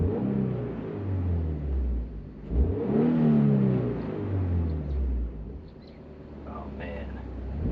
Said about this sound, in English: Let's give you guys some revs while we're just sitting here